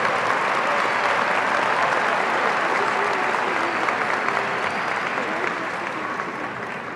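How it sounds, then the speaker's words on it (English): Sustained applause from a large audience at a high school graduation ceremony, honoring a graduate's parents; dense, even clapping that stays loud and fades slightly toward the end. "A round of applause for the parents"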